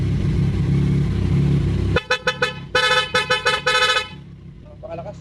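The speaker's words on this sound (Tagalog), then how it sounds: "Busina." A loud aftermarket horn on a Yamaha Tracer 9 GT motorcycle sounds in a rapid series of short honks at close range, coming after a steady idling engine rumble.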